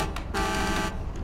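A car horn in a video game, a strange-sounding electronic honk held for about half a second, loud and alone after a brief earlier toot.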